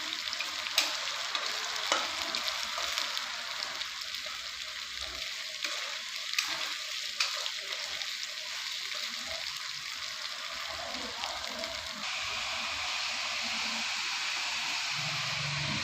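Onion and cabbage frying in a pan, a steady close sizzle with faint stirring scrapes, continuous and fairly quiet throughout with no voices.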